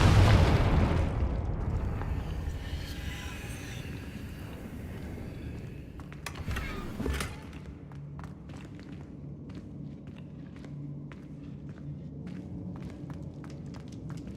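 A fire-based blasting spell going off in the Hogwarts Legacy video game: a heavy booming explosion at the start that fades into a rumbling tail, followed later by a mid-clip burst and scattered light clicks and thuds.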